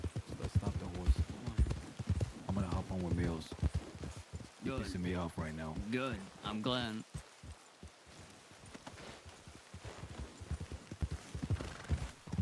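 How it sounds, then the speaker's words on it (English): Clip-clopping horse hooves in an online roleplay video game, a rhythmic trotting patter beneath loud, agitated talking from a man throughout. "Stop this horse. Stop the horse."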